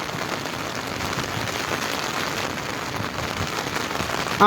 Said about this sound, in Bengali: এখন কিন্তু খুব বেশি বৃষ্টি হচ্ছে